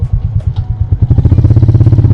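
A Royal Enfield Meteor 350 motorcycle thumps along while being ridden, a loud, close single-cylinder engine beat that steadies into an even rhythmic pulse as it picks up pace.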